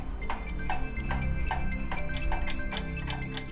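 A clock ticks steadily, one sharp tick roughly every half second in an even tick-tock rhythm, close and clear over a low background hum.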